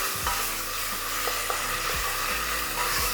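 Equal parts grated ginger and garlic sizzle steadily in hot oil while being stirred, a close, continuous hiss with occasional soft scraping knocks from the spoon.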